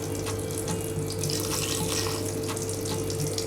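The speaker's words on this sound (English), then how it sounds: "I'm gonna start cleaning the shrimp with some water as well as some lime juice." Tap water runs steadily into a kitchen sink as shrimp are rinsed with lime juice. The splashing hiss is close and continuous with no talk.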